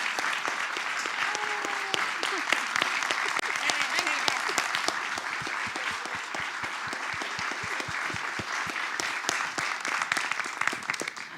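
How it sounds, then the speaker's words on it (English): Sustained applause from a large conference audience in a hall, dense and steady clapping that carries evenly through the whole stretch without letting up. "So please, your round of applause."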